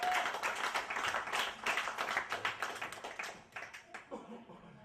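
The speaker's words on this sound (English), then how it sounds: "So give Keith a round of applause." An audience at a comedy show claps for Keith as he is called to the stage, a modest, uneven round of applause that gradually thins, with a voice talking over it.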